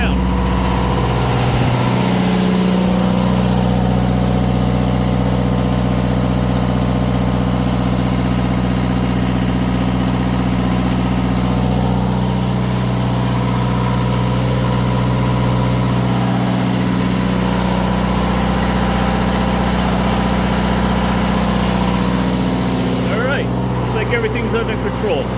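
Onan DJC and JB generators running on a cool, rainy December day: a steady, loud engine drone with a constant low hum, unchanging for the whole stretch, as faint voices are heard at times.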